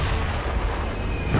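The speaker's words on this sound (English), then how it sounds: "Who the hell has a cannon?" Cannon fire in Sekiro: Shadows Die Twice, heard as a dull booming blast from an enemy cannon, a low rumbling burst that carries on without any talk.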